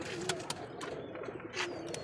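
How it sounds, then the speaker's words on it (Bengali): Bombay pigeons coo softly in short repeated phrases, with a few sharp knocks and flutters nearby against a quiet background. "এটা হচ্ছে আমাদের বোম্বাই কবুতর।"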